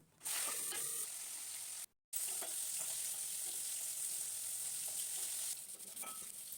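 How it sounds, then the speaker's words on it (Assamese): Magur catfish fries in hot oil in a pan, giving a steady, loud, close sizzle with a brief dropout partway through and no voices. "এয়া দেখিছে মোৰ মাছ ধুনীয়াকৈ ফ্ৰাই হৈ গ'ল।"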